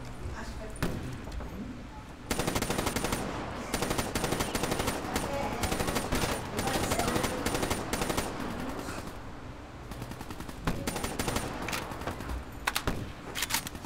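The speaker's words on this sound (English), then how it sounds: "They're shooting at me with shotguns from this range" Dense, continuous gunfire from Call of Duty: Black Ops III with shotgun blasts among the shots, loud and sustained for most of the stretch, with someone talking over the combat.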